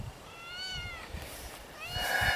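Two drawn-out meows from cats poking around a yard den with large holes, the first fairly near and the second louder and rising, with light outdoor rustling in between.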